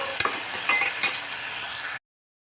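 Onions and ingredients for a fish soup sauté in a hot pan, giving a close, steady sizzle with a few spoon scrapes and clinks before cutting to sudden silence.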